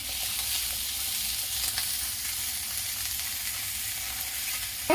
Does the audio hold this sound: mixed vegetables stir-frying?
yes